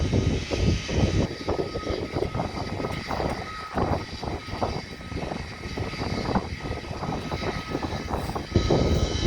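A propeller aircraft engine runs up at the Pocatello Air Tanker Base in Idaho, a steady droning roar heard from a short distance that stays fairly even throughout, with no talk.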